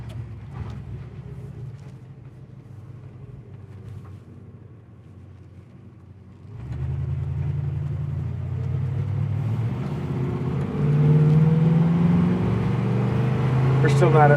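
A 1976 Pontiac Trans Am accelerating through the gears, its engine rumble jumping up after a shift and climbing steadily in pitch, under steady talk from people inside the car.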